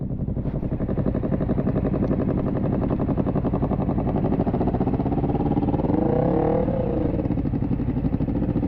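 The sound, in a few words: motorcycle engine revving in first gear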